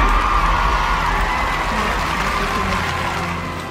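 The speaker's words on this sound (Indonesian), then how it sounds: "Tepuk tangan lagi." An audience at a school education-props contest award ceremony claps and cheers in a steady, dense wash of applause that slowly fades toward the end.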